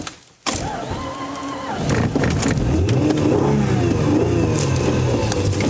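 A 2005 Acura MDX with roughly 196,000 miles that will not stay running cranks and catches, then idles roughly and unevenly with surging revs. It is loud and close in a workshop.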